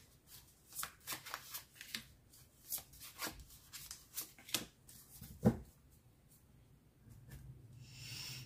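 Oracle cards shuffled by hand for a cartomancy reading, a run of soft riffling and flicking bursts repeating at close range, one sharper snap midway, then a brief hissy slide at the end, with no talking.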